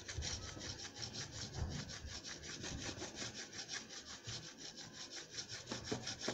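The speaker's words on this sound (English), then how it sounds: "With my grater, I start the job." A handheld grater trims a cake, giving a steady, continuous rasping scrape with rhythmic back-and-forth strokes, close and fairly loud, with no talking.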